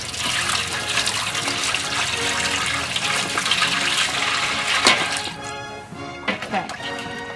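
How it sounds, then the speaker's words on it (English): Cool water drawn from a well gushes loudly and steadily into a laundry tub for Civil War–style washing, then eases into softer splashes and trickles near the end, while a person talks over it. "we're going to add some cool water to this because I don't want to stick my hands in there"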